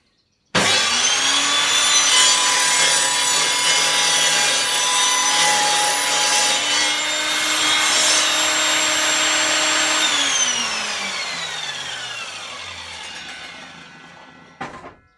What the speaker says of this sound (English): Table saw. Yes, that allows you to get a very, very accurate angle on here.